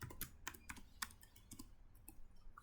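Very quiet keystrokes on a computer keyboard, entering a server address into a web browser. About a dozen irregular clicks are heard close by, with no voices.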